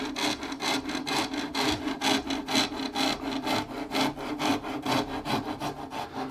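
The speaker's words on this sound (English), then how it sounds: "take a rasp, and now I have to be very careful because there's almost no material to be removed" A Shinto rasp carves a guitar neck in steady back-and-forth strokes, giving a continuous rhythmic scraping that is loud and close, with no talk.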